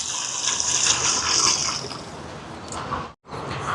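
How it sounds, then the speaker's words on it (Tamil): Water pours into a cooking pot holding rice for biryani, a steady close gush and splash that runs for several seconds, then stops briefly and starts again. "நான் எடுத்துருக்கிற அரிசிக்கு தேவையான அளவு தண்ணி சேர்க்குறேன்."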